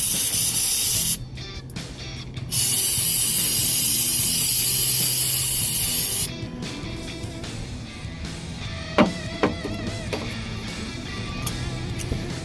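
A loud hissing aerosol lubricant spray fires in two long bursts with a brief pause between, followed by quieter clicking and ratcheting sounds, during maintenance of gritty truck air brake slack adjusters.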